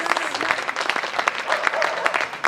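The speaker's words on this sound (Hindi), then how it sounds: "ताली बजा दीजिए," An audience at a Hindi poetry gathering in Barabanki claps in a dense, steady burst of applause for a couple of seconds, close and lively.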